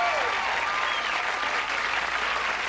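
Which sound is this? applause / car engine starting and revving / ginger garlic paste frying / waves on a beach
applause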